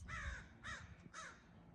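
Crows cawing outdoors, three distinct harsh caws in quick succession, clear and fairly near.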